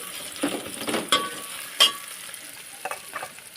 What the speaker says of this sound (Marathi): परतून घेते त्याला मी